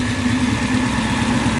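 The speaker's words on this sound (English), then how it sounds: "we're going to fire up the engine and take it for a spin" A 1970 Dodge Charger V8 with FiTech EFI runs at a loud, steady idle, a close, rough and continuous engine rumble with no talking.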